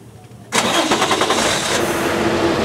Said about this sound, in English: So what we're going to do now is we're going to start the vehicle.